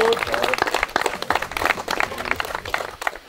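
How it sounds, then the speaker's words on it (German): An outdoor competition crowd applauds the top three finishers with dense, steady clapping that stays loud throughout and eases off slightly at the end. "So, dann nochmal einen fetten Applaus für die Top 3."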